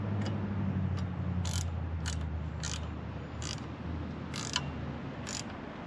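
A wrench tightening the light bar mounting on a Kawasaki Vulcan S motorcycle, heard as a series of crisp ratchet clicks in short evenly spaced bursts over a low steady background hum.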